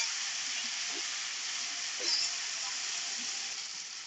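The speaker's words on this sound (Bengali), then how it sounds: "পেঁয়াজগুলো কিন্তু আমি একটু লাল লাল করে ভেজে নেব।" Chopped onions fry in a pan of hot oil, giving a steady, even sizzle and hiss that runs throughout at moderate level, with faint background sounds beneath.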